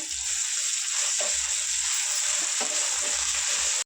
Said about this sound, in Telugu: అల్లం వెల్లిగడ్డ పేస్ట్ కూడా బాగా ఫ్రై చేసుకున్నాము